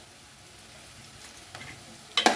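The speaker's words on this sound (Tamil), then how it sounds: "அதையும் நல்லா கலந்து விட்டுக்கலாம்" Green and dried chillies for egg bhurji are stirred in a pan with a soft, faint sizzle and light scraping that ends in a short, louder clatter of the spoon against the pan.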